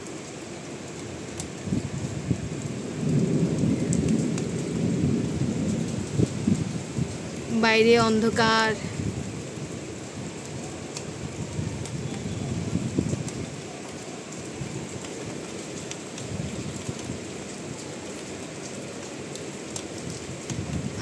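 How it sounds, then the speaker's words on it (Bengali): Heavy rain pours steadily outside an open window at night, a dense, continuous patter. A person speaks briefly over it, and a short burst of bird chirping cuts through midway. "অবশেষে সেই বৃষ্টি।"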